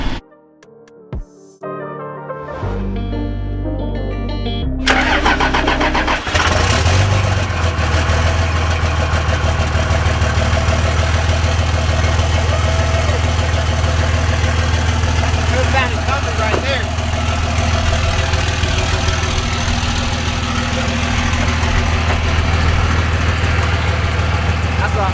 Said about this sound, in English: Now let's take it for a drive.